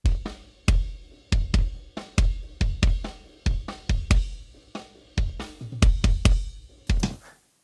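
Drum mix in a metal production style, played back dry without leveling: punchy kick and snare hits in a steady groove with cymbal wash, dynamics somewhat uneven from hit to hit.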